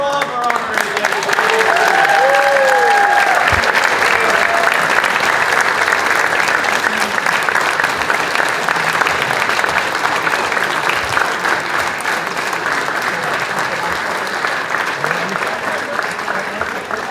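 A large audience at the Hempstead Town Pathfinder Awards ceremony gives its honorees loud, sustained applause, a dense, continuous wash of clapping that holds steady for the whole stretch.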